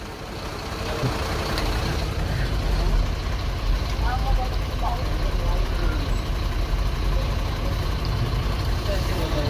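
A large BharatBenz tipper truck engine rumbles steadily close by as it reverses, with people talking in the background throughout.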